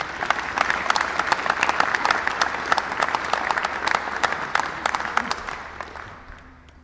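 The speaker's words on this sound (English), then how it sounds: "Give them a wonderful round of applause." Audience applause fills a university white coat ceremony for medical students, a dense steady clapping from a large crowd that carries on for several seconds before fading out at the end.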